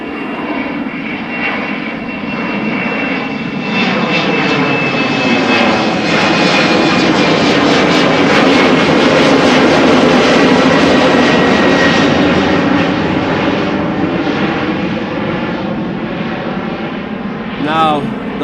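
Loud, sustained roar of a jet airliner at Amsterdam Schiphol Airport, swelling as it passes close by and fading away over about eighteen seconds, with no other sounds standing out.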